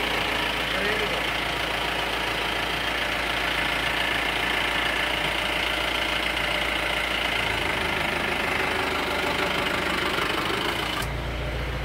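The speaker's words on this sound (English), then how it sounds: "the first cold start in the morning and it will start immediately" A Mahindra Thar DI diesel engine idles steadily after a cold morning start, a loud, continuous clattering drone with knocking texture throughout, changing character slightly near the end.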